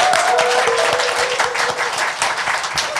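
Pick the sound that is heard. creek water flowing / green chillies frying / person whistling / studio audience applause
studio audience applause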